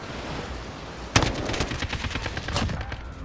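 Hip-fired guns rattle in a shooter video game, a sudden loud burst then rapid continuous automatic fire at close range.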